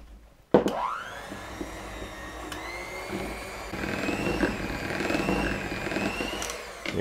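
An electric hand mixer whirs steadily, working icing sugar into a no-bake bar filling, with a sharp start and a continuous motor tone that rises and wavers slightly in pitch as it runs close by.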